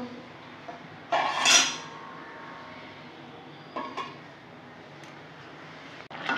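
A lid set down over a frying pan where an egg is cooking, giving one clear metallic clatter with a bright ring, followed by a softer knock a few seconds later over a quiet background sizzle.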